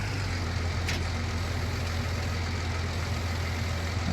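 Big tractor engine idling in Farming Simulator 19, a steady low rumble with a constant droning hum, loud and unbroken, with no talk over it.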